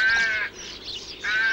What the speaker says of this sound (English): that was a rook, wasn't it? That was a rook.